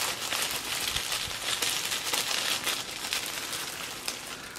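Continuous close crinkling and rustling of thin plastic film being peeled off a newly arrived Hoya plant, steady and moderately quiet with no speech.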